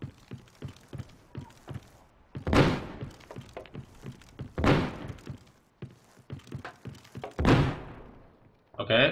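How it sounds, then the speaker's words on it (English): Grenade explosions in America's Army: Proving Grounds, three heavy bursts spaced a couple of seconds apart amid steady game noise, with a voice talking throughout. "those grenades are not good for my head"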